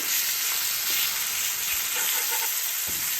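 An egg fries with vegetables, turmeric, black pepper and pink salt in a pan, a continuous bright sizzle with a few soft stirring scrapes, heard close and without voices.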